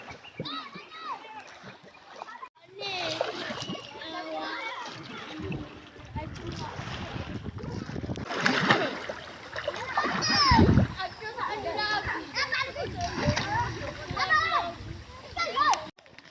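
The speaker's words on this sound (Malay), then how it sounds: "Kita tengok suasana sungai ni." River water at Lata Chong, Kuala Krai splashes and sloshes, with paddling-like bursts and a busy outdoor bed; voices chatter faintly throughout.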